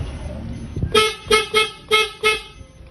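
Loud aftermarket PIAA horns on a Suzuki Ertiga sound five short, evenly spaced honks, each a bright brassy blast, close by after a moment of low background noise.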